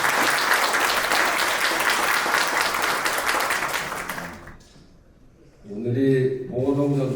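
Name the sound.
audience applause at commemoration ceremony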